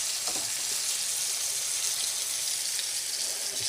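Bread sizzling steadily in a hot pan with bacon and black pudding fat, a continuous close hiss of frying with no pauses and no voices.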